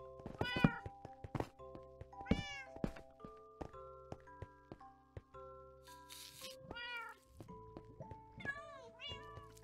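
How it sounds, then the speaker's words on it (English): Several cats meow repeatedly in Minecraft, their cries sharp and close, mixed with bright game tones and occasional thunks, with no talk. "Cats, don't go into lava"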